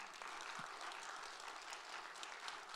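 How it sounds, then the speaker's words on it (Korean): An audience at a Bible conference lecture gives steady, fairly quiet applause, an even patter of many hands heard from a distance with no voices over it. "억지지만 박수 한번 쳐주세요."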